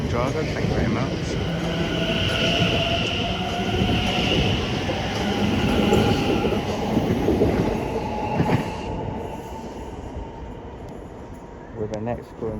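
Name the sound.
train departing toward London Liverpool Street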